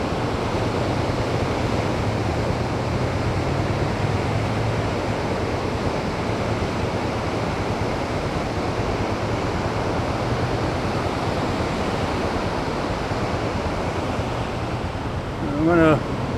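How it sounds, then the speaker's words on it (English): Floodwater from the North Country flood gushes past along a road toward Moore's Forks, a loud, steady, close roaring rush that continues unbroken, with a brief knock near the end. "The water is gushing through here"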